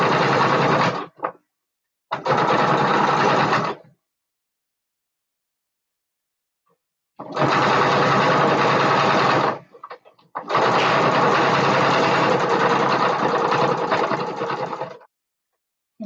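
A sewing machine stitches a tiny part of a bat plushie in four bursts, two short ones and then two longer runs, each clear and close, with silence between them.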